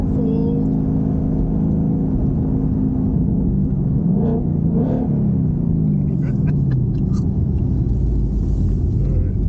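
A 750-horsepower 2021 Ford Mustang GT Performance Package engine rumbles deeply and revs up and down in a few rising surges, loud and close, with a steady low drone underneath.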